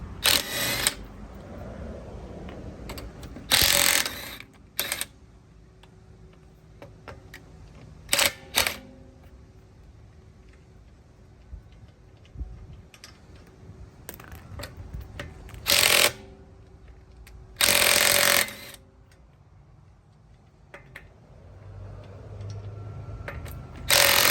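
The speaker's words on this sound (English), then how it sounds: "I have an impact gun. You're going to want to use a 23 millimeter socket, and I'm going to go ahead and take the lug nuts off." Impact gun with a 23 mm socket removing lug nuts from a 2013 rear-wheel-drive Chrysler 300 V6, loud rattling bursts of a second or two, several in sequence, separated by quieter clanks and handling noise.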